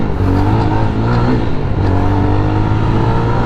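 A Jawa 42 FJ motorcycle on a dusty road under construction pulls away hard, its engine droning loud and close with a steady rumbling throb that climbs as it accelerates.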